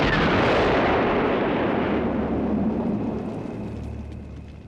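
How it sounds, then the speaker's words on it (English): Wolf skins burst apart in a Goosebumps episode: one loud, close, broadband explosive blast with a deep rumbling tail that slowly fades over several seconds, with no voices. "They freaking explode."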